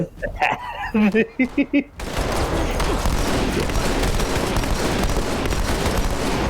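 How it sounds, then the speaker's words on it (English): Halo 2 three-round burst rifle fire starts after a few seconds of animated talking and then runs as a sustained, loud, dense crackle of rapid shots to the end, close and unbroken. "Three-round burst of death."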